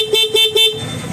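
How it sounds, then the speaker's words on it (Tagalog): Three short, evenly spaced beeps from the stock horn of a Honda Click 125 scooter, close and clear, with a faint idle hum beneath. "testingin natin yung stock horn"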